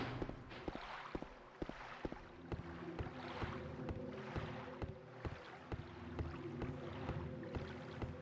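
Oars row a boat across a lake in Silent Hill 2, with regular wooden knocks and swishing splashes repeating over a steady wind-like ambient wash and low droning tones.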